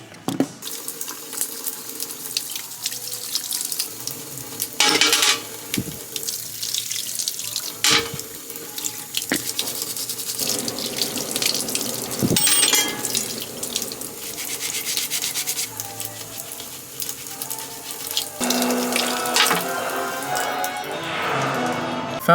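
Water from a tap runs steadily into a sink for a long stretch, close and fairly loud, with occasional clatter and rubbing as things are handled under the stream.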